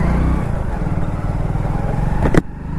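A bike taxi motorcycle rides along an empty road in Delhi, its engine a steady low putter with a buzzing drone, close and fairly loud, ending in a brief sharp clatter before the hum continues.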